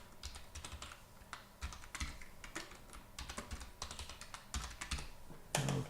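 Keys clatter on a computer keyboard as a password is entered for a new restricted user account, a run of irregular close taps and clicks ending in a louder keystroke.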